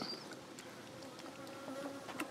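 Honey bees at a beekeeping site buzz in a steady, faint drone close by, with a few individual bees whining past.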